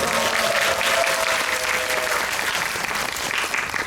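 A theater audience gives sustained, dense applause throughout, steady and loud with no pause.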